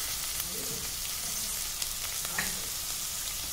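Onion, beans, capsicum and carrots fry in a pan for vegetable vermicelli, giving a continuous close sizzle while a spoon stirs and scrapes through them now and then.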